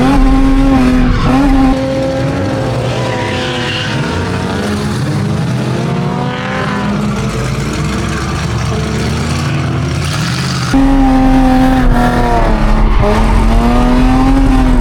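Continuous tire squeal from a drifting race car, likely in a sim-racing game, with wavering high-pitched screeching over a steady engine drone, loud and close throughout, briefly dipping around ten seconds.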